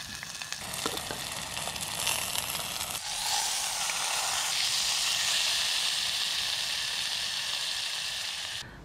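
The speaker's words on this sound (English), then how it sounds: "This was the best steak I've ever cooked." Steak sizzles on a small coil camping stove outdoors, a close, loud, continuous frying hiss that swells and brightens after a few seconds and holds steady with no talk.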